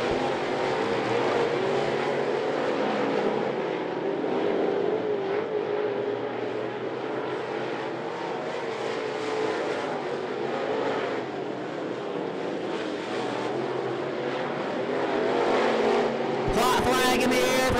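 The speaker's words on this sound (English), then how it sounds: "We're on the final lap of this great late model heat race." Crate late model race cars roaring around the I-75 Raceway oval during a heat race, a continuous loud engine drone with passing swells, under steady announcer commentary.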